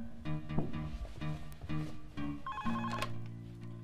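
A telephone rings in a quiet room with a warbling electronic tone repeated in short bursts, followed by a brief higher chirping pattern, fairly faint with no talk over it.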